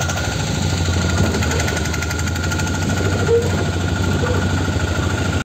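Engine of a Force Minidoor van running as it moves through Bangalore city: a loud, close, steady rattling diesel chug with a rapid knocking rhythm, unbroken until it cuts off at the end.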